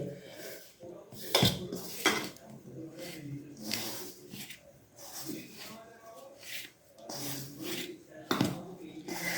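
Oil being rubbed and worked into flour by hand for soft luchi dough, heard as close, uneven rubbing and scraping against a bowl, with occasional sharper clinks of utensils and some speech in between.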